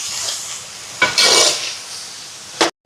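Salted food sautés and fries in a pan while cooking a Shivaratri almsgiving lunch, with a soft sizzle under a few scraping stirs, one longer sweep in the middle and a quick scrape before a short pause.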